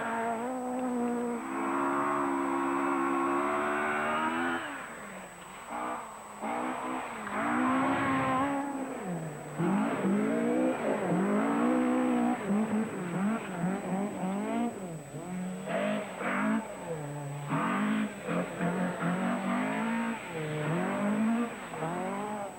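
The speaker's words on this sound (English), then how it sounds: "Clark tackles the first of 3 tarmac stages in Glasgow's Bellahouston Park." Rally cars race on a tarmac stage in Glasgow's Bellahouston Park during a British rally championship event, engines revving hard and rising and falling as they pass one after another, with occasional tyre noise and no talking.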